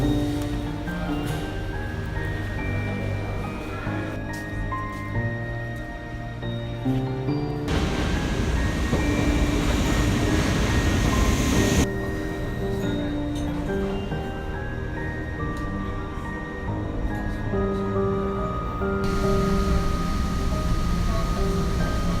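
Steady rumbling interior noise of a train ride from Haarlem toward Amsterdam, a loud continuous drone with shifting broadband texture and occasional swells, running throughout without a break.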